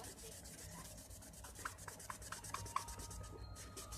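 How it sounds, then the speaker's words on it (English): Plastic being wet sanded by hand with 3M Trizac sandpaper, giving a soft, steady, close rubbing hiss made of quick repeated strokes at fairly low volume, with no talking. "This is 3M Trizac sandpaper. I'm going to wet sand it with that."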